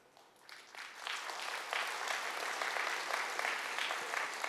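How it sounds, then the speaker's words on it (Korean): Seminar audience clapping in a hall, applause swelling from quiet within the first second into steady, sustained clapping from many hands. "이해가 잘 안 되셔도 박수 치는 거죠?"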